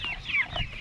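Meat chickens clucking close by in a brief burst of high, warbling calls, with no talk.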